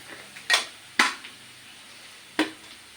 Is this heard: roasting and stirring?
yes